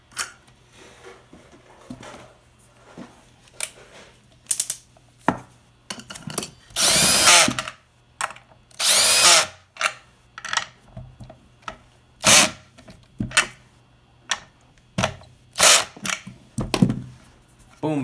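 A power drill drives bolts into a wooden chair being reassembled during a repair, sounding as repeated short, loud whirring bursts with pauses between them and small handling knocks in the gaps.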